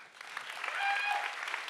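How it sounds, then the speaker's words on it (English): Audience applause at a science slam in Berlin, a dense steady wash of many hands clapping that swells slightly midway, with faint voices mixed in, lasting under two seconds. "So how would this intermediate stage 5 applause sound like tonight?"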